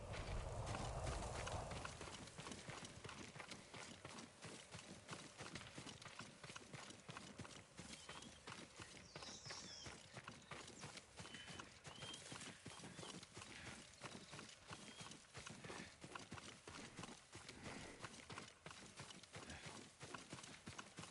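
Horse hooves clip-clop in a steady rhythmic gait throughout, continuous and moderately close, in a video game, with a brief burst of other noise at the start.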